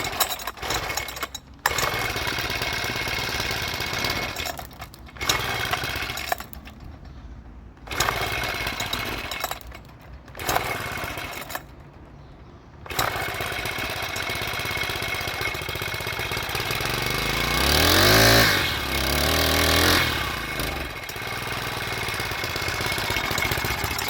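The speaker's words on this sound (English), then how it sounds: "I'm gonna let it idle for a few minutes." A cold weedeater engine idles steadily and close, a buzzing two-stroke drone broken by a few brief cutouts or dips, then swelling louder for a moment before settling back to its even idle.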